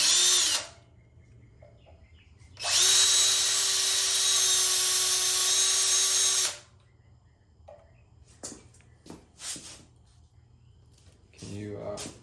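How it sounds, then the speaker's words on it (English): A power drill bores a hole through the mount area for a replica gas tank on a 1974 Ironhead chopper, one loud steady whine of about four seconds, followed by quieter shop handling noises. "I'm basically just gonna drill through right here, a hole right there"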